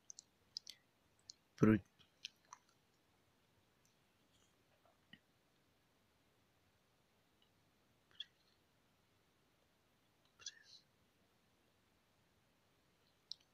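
Sharp mouse clicks on a phone app's profile screen, one loud click standing out amid a few faint scattered taps over quiet background.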